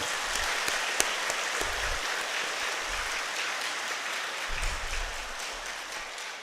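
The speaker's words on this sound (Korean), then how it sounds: "박수 한번 칠까요?" A congregation at an Easter Vigil Mass applauds in a steady, fairly soft wash of clapping that carries on without a break, with a few low thumps underneath and no voices.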